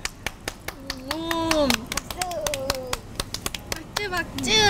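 A few people clap sharply and unevenly at a casual meal on Garosu-gil, the crisp hand claps scattered in short bursts amid excited talking and laughter nearby.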